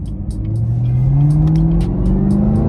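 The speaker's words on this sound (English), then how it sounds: "you still get that supercharger whine in this car like the Hellcat" A Chevrolet Camaro ZL1 1LE engine revs with a rising high-pitched supercharger whine climbing steadily above the deep engine drone, loud and close.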